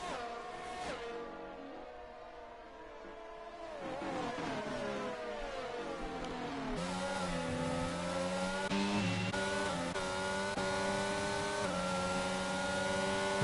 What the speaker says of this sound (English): it's 4 cars, really close behind each other through the S section now